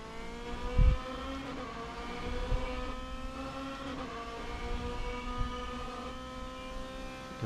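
A DTM race car in a video game accelerates around Hockenheim, its engine a steady droning, buzzing note that climbs gently in pitch, with a few brief thumps over a constant hum.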